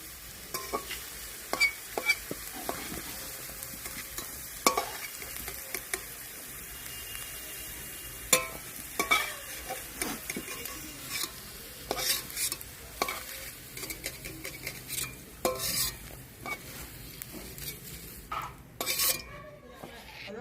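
Beans and carrots fry in a pan for vegetarian khichuri, a soft continuous sizzle broken by frequent scraping and clinking stirs of a utensil against the pan, close and fairly quiet.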